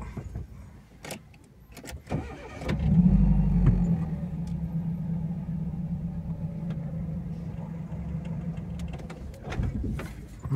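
A manual car pulls away as a learner driver eases the clutch out and presses the accelerator, the engine rising into a steady low drone after a few clicks and knocks inside the cabin.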